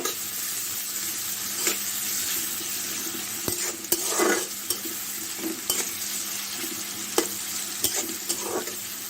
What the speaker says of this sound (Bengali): পেঁয়াজটা বাদামি করে ভেজে নেব